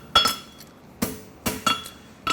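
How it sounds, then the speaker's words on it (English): A hammer strikes a horseshoe heel on an anvil during forging, with five sharp metallic rings in an uneven rhythm, each clear and close with a bright ringing decay and no talking. "I hit about 1/2 inch in front of the end of the heel with the round of my hammer"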